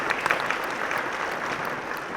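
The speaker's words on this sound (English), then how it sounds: "Let's give him a round of applause." Audience applause at a conference panel on South Africa's payment landscape, a steady wash of clapping from the room for about two seconds, moderately loud with no clear talk over it.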